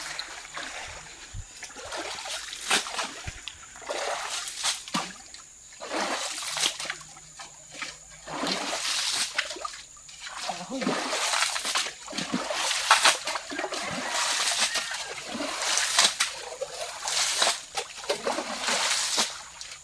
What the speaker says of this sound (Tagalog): Guys, lumakas na ang tubig.